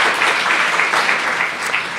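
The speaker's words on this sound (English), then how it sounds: "So a round of applause, first of all, for the terribly accomplished Anna Goldsworthy." A steady round of audience applause at a Quarterly Essay talk honouring the author and concert pianist Anna Goldsworthy, moderately loud and even, with no speech over it.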